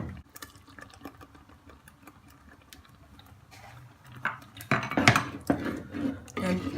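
Blended curd is poured into a pot of Kerala-style sweet and sour ripe mango curry: quiet clinks, then a louder run of wet pouring and spoon scraping in the second half.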